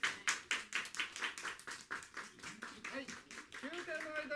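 A small audience at a live gypsy jazz show claps in unison, sharp distinct beats in a steady rhythm that grow looser toward the end as a voice begins speaking over them.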